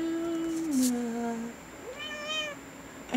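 A house cat gives two distinct meows, the first a long falling cry and the second a shorter rising one, close and clear against a quiet room.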